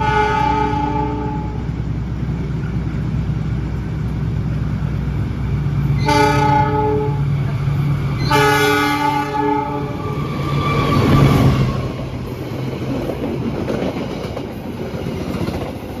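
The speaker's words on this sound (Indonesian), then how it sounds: "Kereta api Brawijaya baru saja melintas langsung stasiun" The Brawijaya passenger train runs straight through a station at night, with a loud steady rumble of rolling wheels and several long horn blasts as it passes close by.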